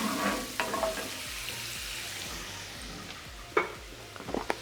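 Onions stirred in a hot pan for a red wine sauce, with a steady soft sizzle under scattered scraping and clinking of the utensil against the pan, a couple of sharper knocks near the end.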